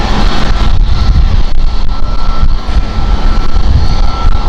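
An aircraft at Amsterdam Schiphol Airport, a year-old jet registered Bravo Kilo Lima, fills the air with a loud, steady engine roar and wind rumble that holds constant throughout.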